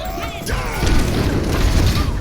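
Reinhardt's Earthshatter ultimate in Overwatch 2 on Blizzard World: a loud, sustained booming crash that swells after about half a second, with rumbling low-end impact noise and scattered game sounds filling the rest.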